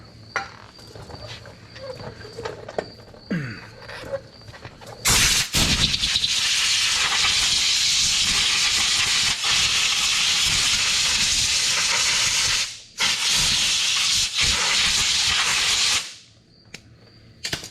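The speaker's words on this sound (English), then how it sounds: "rinse this off with our favorite friend, brake cleaner" Brake cleaner sprays hard onto old, crud-caked Ford Bronco brake parts in two long, loud hissing bursts split by a short pause, after quiet shop ambience with no talking.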